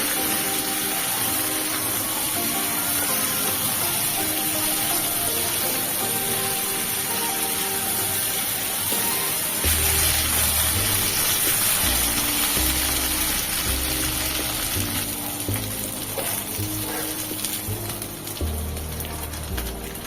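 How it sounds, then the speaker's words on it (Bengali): Cut potatoes and pointed gourd (potol) fry in oil with turmeric, giving a dense, continuous hiss and sputter close by, with occasional low knocks and thumps of handling in the second half. "এরপরে সেই তেলের মধ্যে কেটে রাখা আলু ও পটলগুলোকে ভালো করে ফ্রাই করে নিতে হবে"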